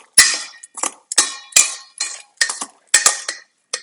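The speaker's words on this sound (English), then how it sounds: "So a generous amount of olive oil, and then salt and pepper. And give that a nice stir." A utensil stirs olive oil, salt and pepper in a dish, with a run of sharp, close clinks and scrapes against the dish in an uneven rhythm, loud and alone.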